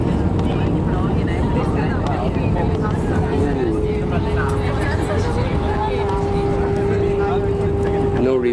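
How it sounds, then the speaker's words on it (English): An Air France Airbus A319 touches down on the north runway at London Heathrow, heard from inside the cabin as a loud, steady roar of engine and airflow noise with a rising whine, and no reverse thrust. "we're about to touch down"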